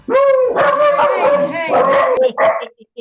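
Dogs at a licensed foster kennel in Minnesota howl and bark together in a loud, close, sustained chorus that ends with a few short yips.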